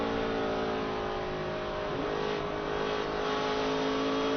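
A NASCAR stock car's engine at the 2008 Auto Club 500, throttle blipped in heavy traffic, a steady loud onboard drone with slight rises and dips in pitch.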